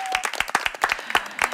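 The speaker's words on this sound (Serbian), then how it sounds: "Hoćemo jedan aplauz za njih." A television studio audience claps for performers, a close, uneven burst of individual hand claps with a few voices mixed in.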